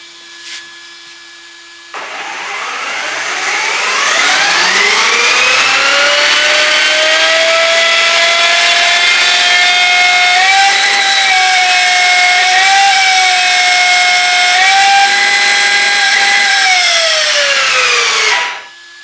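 A radio-controlled car with a Surpass Rocket 160A brushless motor driving: a loud electric whine that rises in pitch, holds steady for a long run with small wavers, then cuts off.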